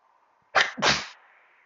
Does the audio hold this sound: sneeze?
yes